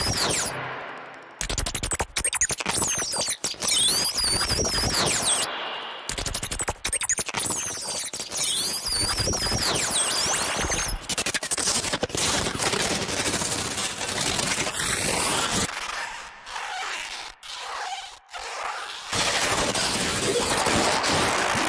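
Dense cinematic trailer effects built from balloon sounds: layered whooshes and heavy, booming bangs with processed distortion, loud and nearly continuous, with sharp cutoffs and sudden hits throughout.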